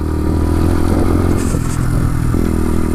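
A Bullit Hero 125 motorcycle rides off-road over rough terrain at a sedate pace, its mid-pitched engine droning loudly and steadily with clattering and scraping from the bike, a slight shift in engine note near the end, no talking.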